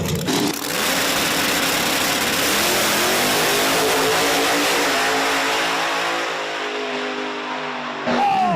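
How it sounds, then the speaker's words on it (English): Drag race cars launch and accelerate hard, a Chevrolet Nova against a 1992 Saturn at a motorsports park; loud engine roar climbs in rising pitch for several seconds, then fades as the cars pull away, with another engine burst near the end. "We got Mr. Batista here in the right lane driving the Nova, going up against Turbo John in the 1992 Saturn."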